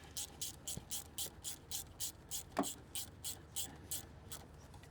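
A ratchet tightens a spark plug on the turbo engine of a 2025 Toyota Tundra, giving a steady run of about a dozen close, even clicks with one sharper knock midway.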